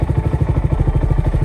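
A 2022 Honda Grom motorcycle idles after an ECU reset, its small engine thumping in a fast, steady, slightly uneven pulse, close and loud.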